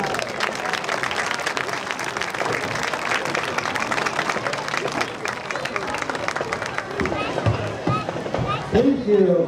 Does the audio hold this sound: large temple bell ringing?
no